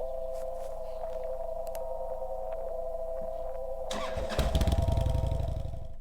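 A motorcycle engine in the Kathy Rain video game cranks and catches, swelling into a loud low rumble that runs to the end, over a steady background hum and tones.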